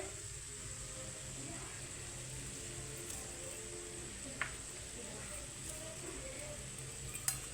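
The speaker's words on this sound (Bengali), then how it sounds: "দিয়ে আবার একটু নাড়ি টাড়ি নেব" Rice with black pepper and salt stirred in a pan, a soft, steady sizzle with occasional faint scrapes and clinks of a utensil against the pan, quiet and close.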